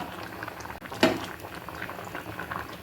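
Dal cooking for a Palakkad-style varapulinkari bubbles at a low, steady simmer, a soft continuous liquid burble heard up close with no talking over it.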